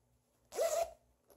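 A short, close zipper pull on a Colombian post-op compression garment, one quick rasping zip lasting about half a second in a quiet room.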